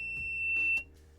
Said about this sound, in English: a lot of times there's an alarm on the side